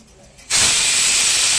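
A pressure cooker on a charcoal stove bursts into a loud, sustained steam whistle, a hard hiss that starts abruptly after a brief quiet and holds steady to the end, with no talk over it.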